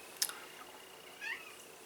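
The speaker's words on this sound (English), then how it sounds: "You're gonna hear the cat in the background" A house cat meows faintly in the background of a quiet indoor room, two short calls spaced about a second apart, with no one talking.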